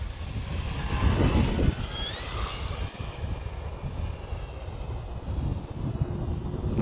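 An electric RC H-King Wargo Edge 540T ARF aerobatic plane on a 4S 3200 battery passes overhead, its steady high motor whine rising in pitch. A louder rush of wind and rumble comes early on, and the whine carries on alone with no talk.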